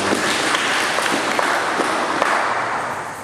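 Church assembly audience applauding together at a diocesan general meeting, a steady dense wash of clapping with a few sharper claps standing out, fairly loud and continuous throughout.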